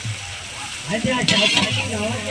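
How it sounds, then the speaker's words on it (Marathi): Close, steady sizzling of food frying in hot oil in a wok during the Pandharpur palkhi pilgrimage, with a voice briefly murmuring underneath. "इथं कढईमध्ये तेल टाकून चांगल्या प्रकारे फ्राय करून घेत आहेत"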